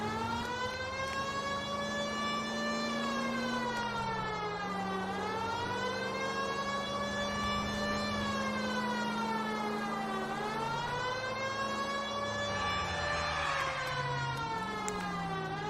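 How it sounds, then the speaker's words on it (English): A wailing police-style siren from the video game L.A. Noire rises and falls in steady sweeping cycles, loud and continuous throughout, with a low engine hum underneath. "There's a siren going."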